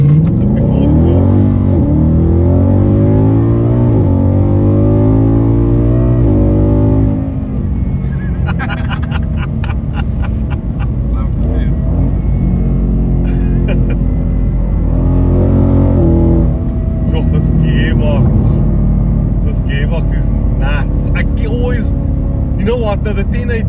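A Ford Mustang California Special's V8 engine in sport mode revs up through rising, pulsing harmonics, then settles into a loud, deep burbling rumble with crackles, close and powerful throughout.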